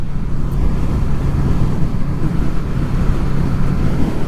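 Wind buffeting an exposed hilltop near a stone circle, a steady low roaring rumble of gusts across the microphone, loud and unbroken, with no voices.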